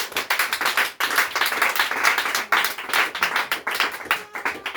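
A church congregation claps and applauds together, dense continuous hand clapping with a few brief dips, loud and close.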